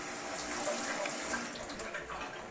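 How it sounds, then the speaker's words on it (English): A tomato is rinsed under a running kitchen tap, giving a steady, close hiss of splashing water for a couple of seconds with no talk. "So now we rinse the tomato."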